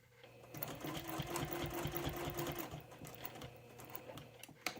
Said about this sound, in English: I'm just going to sew right to that little dot there.